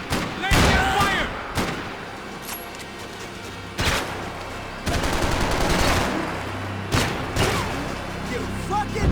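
Bursts of gunfire and heavy shots in the video game Max Payne 3, several sharp volleys spread across the clip with rumbling tails, mixed with shouting voices between the blasts.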